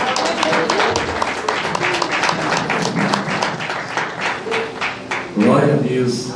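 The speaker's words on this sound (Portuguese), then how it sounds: "Aplauda mais ao Senhor, querido, em nome de Jesus Cristo." Congregation in a church applauding steadily and loudly, many close claps in rapid rhythm, with a voice speaking over them near the end.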